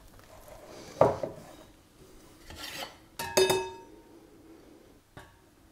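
A whisk knocks and scrapes around a bowl of crêpe batter in a few separate bursts, with clinks against the bowl's side and quiet gaps between the strokes.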